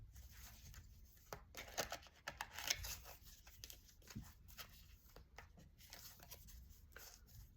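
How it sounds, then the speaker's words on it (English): Oracle cards being shuffled at home, giving a run of soft papery riffles and flicks with brief crisp snaps, close and fairly quiet with no talk over it. "I'm going to just shuffle through the wisdom of the oracle cards."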